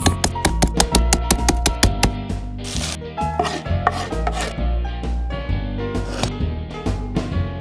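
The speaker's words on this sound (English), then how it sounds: "Then finely mince the onions." A knife finely minces onions on a board in close, crisp, rapid chops, first in a fast even rhythm, then in looser bursts, with no talking.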